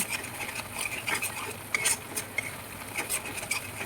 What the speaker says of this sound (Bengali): এবার আমি সবকটাকে মিশিয়ে নেব ভালো করে